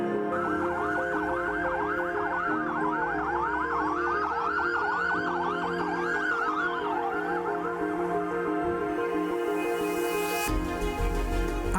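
A loud wailing fire brigade siren sweeps up and down repeatedly, with a steady engine rumble beneath and a burst of noise near the end.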